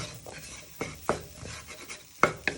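Spices frying with ginger, carrots and onions in a pan, heard as a spoon or spatula stirring and scraping with several sharp clinks against the pan over a faint sizzle, close and fairly quiet.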